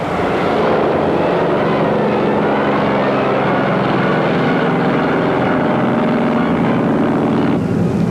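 A Grumman F6F fighter's propeller engine roars loud and close in a steady, sustained drone with a rough low rumble, a naval carrier aircraft in flight.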